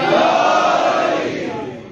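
A congregation at a Ramzan religious gathering roars back in a loud, unified shout answering the Naara-e-Haidari chant, then slowly fades away.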